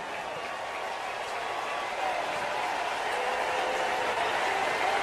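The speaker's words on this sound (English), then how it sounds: "And listen to this crowd as they all rise to their feet." A baseball stadium crowd rises for a standing ovation during a Milwaukee Brewers game against the Pittsburgh Pirates, a broad, steady roar of cheering and clapping that swells slightly and holds.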